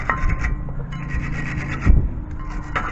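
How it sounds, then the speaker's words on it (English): A wire brush scrubs gunk off a rear brake part on a 2018 Nissan Altima, close rasping strokes in quick repeated bursts with one heavier scrape partway through. "I'm using a wire brush"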